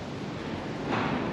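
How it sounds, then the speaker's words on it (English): Wind gusting and rumbling against the microphone, a steady rushing noise that swells slightly toward the end. "it's pretty windy today. It's the noise you can hear."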